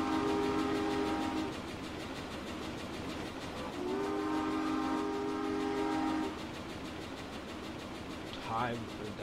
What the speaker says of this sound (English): Time to catch my train.